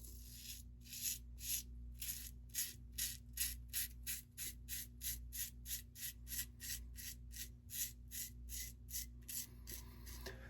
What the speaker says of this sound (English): Razor's a little loud because I do have some growth here to get through